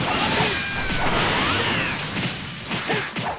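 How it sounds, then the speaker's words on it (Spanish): Crystals shatter in the video game Dragon Ball Xenoverse 2 amid dense, loud game effects: repeated crashing smashes, swishing whooshes and sharp hits over a continuous noisy backdrop. "tengo que romper los cristales lo más rápido posible"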